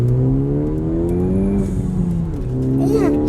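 A 2016 Ford Focus ST with traction bars launching hard through a corner, its engine drone climbing steadily in pitch close by as the car accelerates, with a brief tire squeal near the end.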